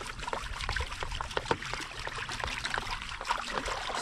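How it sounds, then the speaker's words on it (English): Water spills and trickles out of a tilted gold-panning flow pan, a continuous close splashing with small irregular drips and gurgles throughout. "Bring it up on an angle, let the water flow out."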